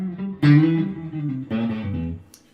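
An electric guitar played through a Koch signature amplifier using its onboard effects, two bright overdriven phrases with sustained notes, close and alone, trailing off with a short pause between.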